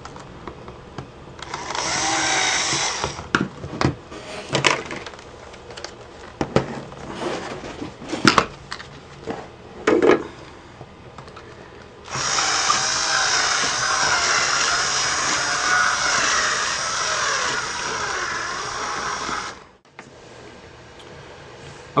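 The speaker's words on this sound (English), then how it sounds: "I'm going to drill into the hole here" Power drill enlarging a hole in a Sony Vaio laptop, short whining bursts and scraping bites at first, then a long steady high whir of drilling for several seconds before it stops.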